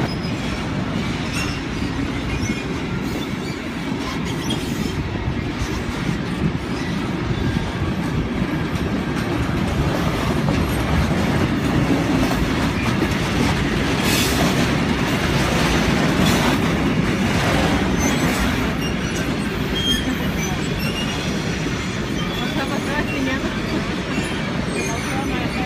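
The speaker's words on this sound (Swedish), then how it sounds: "Och tåget har precis kört förbi." Train running past at a station near Ystad, a long rumbling roar with rattling wheels and some squeal, rising and falling over about half a minute, with voices in the background.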